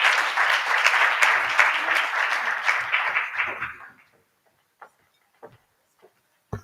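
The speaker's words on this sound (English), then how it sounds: "Give the round of applause to the group again." Applause for a group at the C20 South Africa launch and mid-term dialogue, a dense round of clapping that fades out after about four seconds, leaving a few scattered knocks in near silence.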